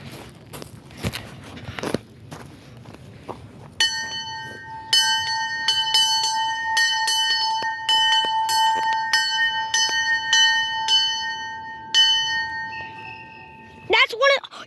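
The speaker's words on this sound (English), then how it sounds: "here's a bell. A steam engine bell." A steam engine bell at a transportation museum rings in a long series of bright, resonant clangs after some handling knocks, with people talking nearby.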